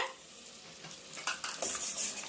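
Onions sautéing in a pan for paneer butter masala, a quiet, steady sizzle with a few soft stirring scrapes toward the end, close but faint and with no talking.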